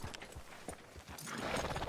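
Horse hooves in Red Dead Redemption 2, a few soft quiet clip-clop steps at a slow walk, fading into faint background noise.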